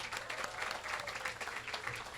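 A seated crowd at a university groundbreaking ceremony gives a round of applause, many hands clapping in a moderately loud, slightly uneven patter with a faint steady hum underneath.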